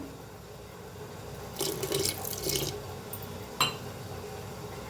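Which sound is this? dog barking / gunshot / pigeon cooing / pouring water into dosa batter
pouring water into dosa batter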